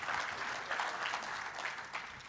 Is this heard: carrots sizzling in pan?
no